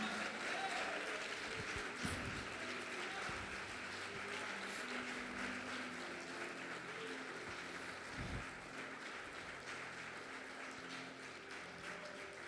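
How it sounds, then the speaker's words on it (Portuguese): A church congregation applauds in a sustained wash of clapping, fairly distant and reverberant, with low rumbles beneath and no clear voices. "Você pode aplaudir Jesus"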